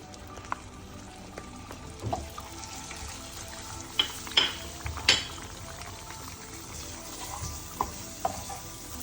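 Leftover masala fries with buffalo meat in a pan, a soft bubbling sizzle under intermittent stirring clatter and a few louder spoon knocks, mostly quiet and close.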